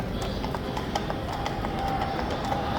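Hooves of a riot police horse clip-clop on pavement in central London, a steady, close rhythm of hard strikes over a dense background of crowd and street noise.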